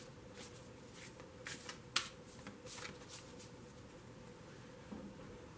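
Tarot cards being shuffled softly, a run of light papery riffles and taps with a sharper snap near the middle, quiet and close.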